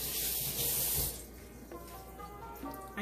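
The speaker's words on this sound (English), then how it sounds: "Now what I want to do is wash my hands off." A kitchen faucet runs steadily while hands are washed under it, close and fairly loud, with the water stopping about a second in and a softer trickle and drips continuing after.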